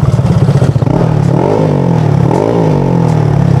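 Honda Click 175cc scooter with a tuned engine, freshly serviced with an oil change, revving up close and loud, rising and falling in pitch over a steady idle with some rattling, with no talking.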